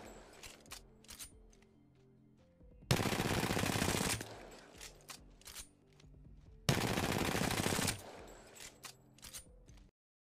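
RE45 automatic pistol fire in the video game Apex Legends, two sustained bursts of rapid shots a few seconds apart, loud and close, with scattered clicks and short handling noises between them and no talk.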